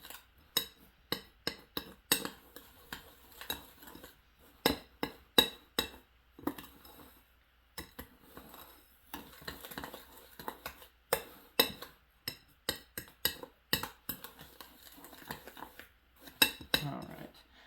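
A utensil scrapes and clinks against a bowl while kinetic sand and cornstarch are mixed together, giving irregular clicks and taps close by throughout, with occasional soft grainy rustling between strikes.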